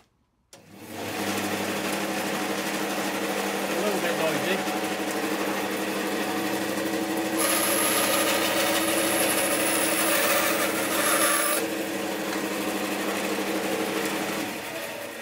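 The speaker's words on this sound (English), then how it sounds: "But just what a bandsaw should do." A Dewalt 876 bandsaw runs with a steady motor drone for the whole stretch, with a brief hissier cutting passage midway, and no voice over it.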